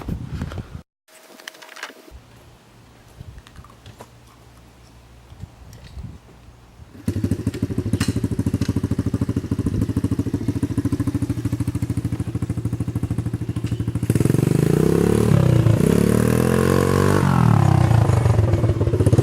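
A pit bike dirt bike engine runs: a quiet, clattering idle for several seconds, then a louder steady engine drone that builds further toward the end, with no talking.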